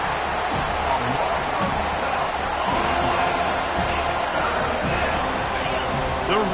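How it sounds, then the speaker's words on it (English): Stadium crowd roaring at a college football game between Notre Dame and Florida State, a broad continuous rumble of many voices while a commentator talks over it. "The roar of the crowd trying to fuel this defense to keep them pinned in their own end"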